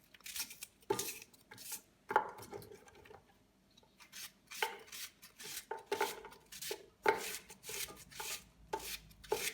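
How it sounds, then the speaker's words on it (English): A knife cuts an onion into thin, long slices on a board for chicken curry, giving close, crisp chopping strokes in irregular bursts with short pauses and no talking. "So what you do now is cut your onion into thin slices"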